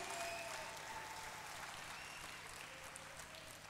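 A church congregation at a sermon claps steadily, a dense, faint patter of many hands heard from a distance that holds evenly and tapers slightly at the end.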